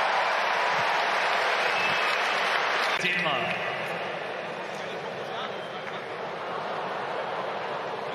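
A tennis crowd at the United Cup applauds in a broad, continuous wash of clapping that swells and then eases slightly, with commentary voices over the top.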